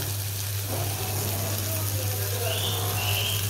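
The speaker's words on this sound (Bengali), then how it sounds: "আমি ঝোলটা দিয়ে দিই।" Broth poured into a pot of curry in a home kitchen, a steady, continuous liquid gush over a low, constant background hum.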